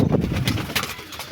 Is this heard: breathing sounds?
no